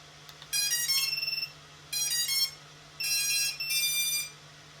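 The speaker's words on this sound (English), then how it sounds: "Buzzer is working." An FPV drone flight controller buzzer on a 7-inch long-range build beeps its power-up tune after a LiPo battery is plugged in, in four bright electronic bursts with short gaps and a steady low hum underneath.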